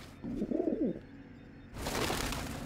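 Pigeons or doves coo in the Deus Ex video game: a short run of soft, warbling coos up close, followed by a louder wash of broadband game ambience.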